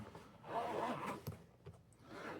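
A zipper runs along a controller carrying case for an Xbox Elite Series 2 wireless controller, a quiet, close rasping pull with a couple of short scraping strokes and brief pauses, heard alone.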